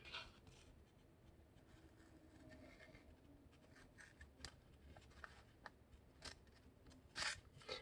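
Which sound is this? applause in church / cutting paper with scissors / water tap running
cutting paper with scissors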